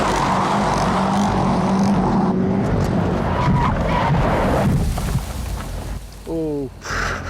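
A powerful muscle car engine revs hard on a mountain pass with tyres skidding and roaring nearby, loud and continuous, then the engine drops and blips as voices briefly speak.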